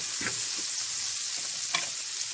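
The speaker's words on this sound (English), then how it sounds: "we're going to add a couple tablespoons of butter. We're going to let this melt in our pan" Butter melts and sizzles in a pan, with a constant airy hiss and a few soft scrapes of a utensil moving through it.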